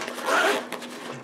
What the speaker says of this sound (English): When you open this zipper on here first,